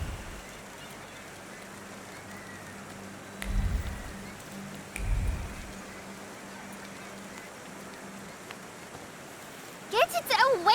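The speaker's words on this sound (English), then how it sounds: "And now it starts to rain." Rain falls in the game The Thaumaturge as a soft, steady hiss of noise under a low hum, with a couple of dull thuds midway and warbling voice-like sounds at the end.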